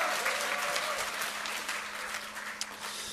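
A lecture audience bursts into dense applause mixed with cheering, a loud, continuous crowd roar of clapping with shouts over a faint steady hum, holding throughout.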